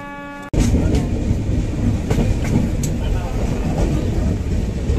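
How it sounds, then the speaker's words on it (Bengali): The 12883 Rupasi Bangla Express runs at speed, a loud, continuous rumble with rhythmic rail clicks and a brief tone just before it swells in. "এইসবের পাশ দিয়ে ট্রেন তার গতিতে ছুটে চলেছে"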